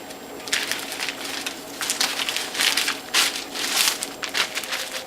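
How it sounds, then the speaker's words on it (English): A plastic bag crinkles and crackles in bursts as juicer cloths are packed into it for the freezer, handled close by with short pauses between rustles. "And we'll put these in a plastic bag and put them in the freezer."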